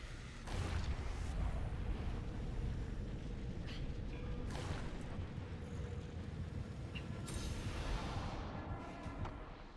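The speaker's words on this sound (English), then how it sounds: "Love the flashbangs." Three faint, sharp flashbang blasts go off in a video game, spaced a few seconds apart over a low, constant rumble.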